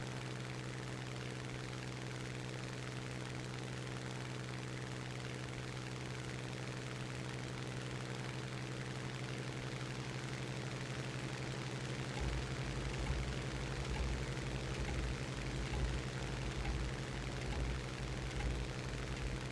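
Aircraft engine in a simulator dogfight game, a steady droning propeller hum with a constant low tone, holding even throughout and growing slightly heavier and rougher toward the end, with no voices.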